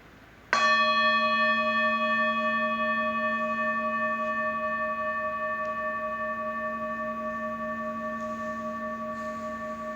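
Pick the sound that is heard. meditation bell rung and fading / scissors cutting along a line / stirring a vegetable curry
meditation bell rung and fading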